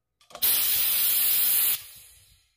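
Residual LPG escapes from an LPG cylinder after compressed air is blown in, a sudden loud hiss starting after a brief knock, holding steady just over a second, then cutting off abruptly into quiet.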